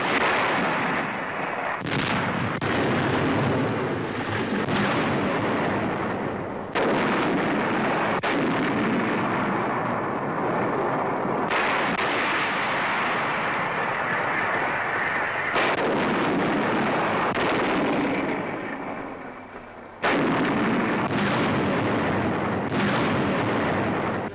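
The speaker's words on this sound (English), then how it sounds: "The barrage begins." A British artillery barrage firing on an enemy-held Italian town, loud heavy booms and rumbling blasts that follow one another in a dense, sustained roll with only brief dips between salvos.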